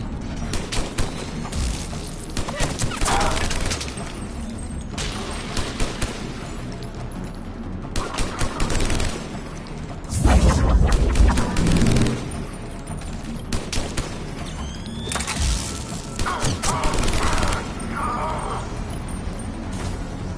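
Mass Effect 3 combat on Surkesh: continuous loud bursts of gunfire with intermittent heavy explosions and rumbling booms over about twenty seconds, with voices calling out during the fighting.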